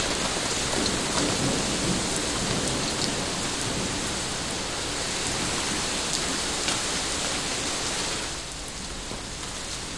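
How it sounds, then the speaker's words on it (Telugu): Hailstorm with heavy rain and rolling thunder over Hyderabad in Telangana, a dense, steady roar of downpour lasting throughout, easing slightly near the end, with no voices. "తెలంగాణలోని పలు ప్రాంతాల్లో వడగండ్ల వాన కురిసింది."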